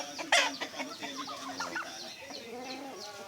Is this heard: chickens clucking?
yes